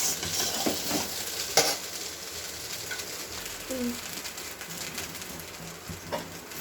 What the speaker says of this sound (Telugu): అక్కడక్కడ రైస్ గడ్డలు లేకుండా కలుపుకోవాలి ఫ్రెండ్స్.